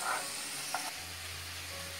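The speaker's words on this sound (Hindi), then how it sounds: "अब इसे हमें चलाते हुए तब तक के फ्राई करना है तब तक के हमारा प्याज और काजू कलर चेंज नहीं कर लेते" Chopped onions and cashews fry in a pan for a chicken Mughlai dish, giving a soft, steady sizzle with a couple of faint stirring scrapes near the start, quiet and without speech.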